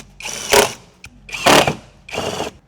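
Power driver bursts send stainless steel screws into a carbon fiber side skirt on a BMW M340i, three short whirring runs separated by pauses, close and fairly loud.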